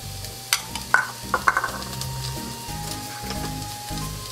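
Onion, garlic, celery and carrot sautéing in olive oil over medium heat for shepherd's pie, a soft steady sizzle broken by several sharp utensil clinks and stirring scrapes.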